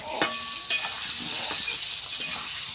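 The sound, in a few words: potatoes frying in a pan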